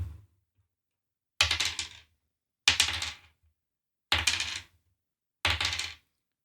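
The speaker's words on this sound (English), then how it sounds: "Roll 4d6 for me." Four six-sided dice rolled onto a table in a series of four separate rattling clatters, each a short burst of tumbling dice that settles within about half a second, fairly close and alone with no talk.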